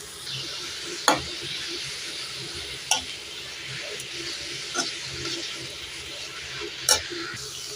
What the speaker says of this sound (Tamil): கேரட் போட்டு அதையும் நல்லா வதக்கிக்கலாம்